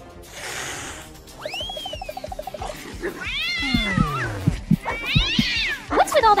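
Cartoon cat meows and caterwauls in rising, wavering cries, loud and close, with a rapid ratcheting rattle early on and cartoon characters talking over parts of it.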